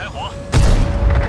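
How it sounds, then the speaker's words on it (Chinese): A Type 59 tank cannon fires in the game World of Tanks on a tundra map: one sudden heavy boom with a deep rumbling tail, preceded by quieter game tones. "准备开火"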